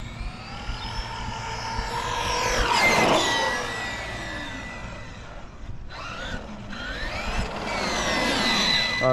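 A Hobbywing Xerun XR8 brushless RC car motor near full throttle gives a loud, high electric whine that sweeps up and down, surging to a peak at one point, dipping briefly, then climbing again. No voices.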